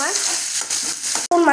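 Mustard seeds, urad dal, curry leaves and crushed garlic fry in hot oil with a loud, continuous close-up sizzle and crackle, briefly interrupted by a stirring scrape.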